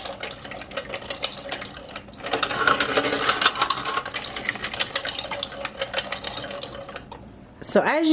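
A hand-cranked food mill grinds tomatoes for a copycat Sweet Baby Ray's BBQ sauce, a continuous close rattling, clicking churn that grows louder midway, with a brief squeak near the end.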